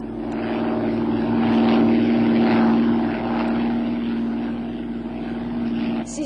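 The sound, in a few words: propeller airplane flying and turning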